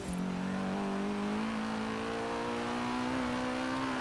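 Nissan S14 engine in Forza Horizon 3 holding a steady, loud drone that climbs slowly in pitch as the revs rise, close and continuous with no voices.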